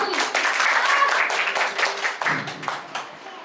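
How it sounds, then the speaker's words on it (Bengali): Loud applause from a group at a prize announcement, dense clapping that holds strong, then thins into scattered claps as a voice comes in near the end. "সবাই একটা জোরে হাততালি।"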